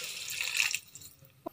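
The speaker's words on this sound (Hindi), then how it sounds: "अब इसमें 1/4 cup पानी डाल दें" About a quarter cup of water is poured into a pan of frying potato curry, a short hissing splash and trickle that fades out, followed by a soft clink near the end.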